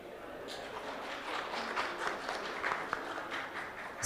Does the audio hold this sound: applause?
yes